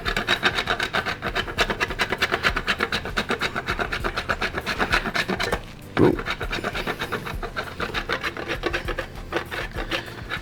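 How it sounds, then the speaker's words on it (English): A block of Portuguese chocolate is grated on a metal box grater, making rapid rhythmic rasping strokes close up, with a brief pause and a knock near the middle before the scraping resumes. "Now let's take that box grater. I got us a nice block of chocolate."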